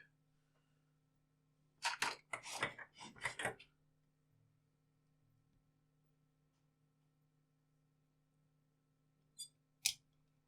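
A cluster of sharp snips sounds as a small wire on an FPV video module is trimmed, followed by a pause and two more quick cuts, all close and crisp over a faint electrical hum.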